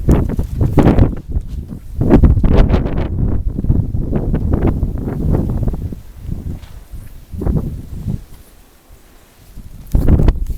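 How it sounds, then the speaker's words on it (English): Blizzard wind gusts buffet the microphone outdoors in loud, uneven blasts that ease off briefly before surging again. "we still got a blizzard going on."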